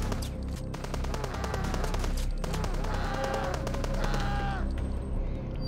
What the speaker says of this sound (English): So I like to just pull out the hand cannon. And then just use the shotgun.